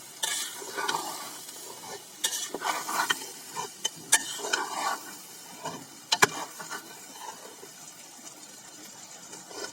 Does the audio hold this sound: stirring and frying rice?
yes